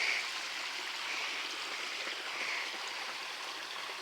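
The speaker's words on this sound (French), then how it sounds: "Donc là on a une cascade." A small waterfall in a garden pond with frogs, a steady, even rush of falling water that holds at a constant moderate level throughout, close by and without talk.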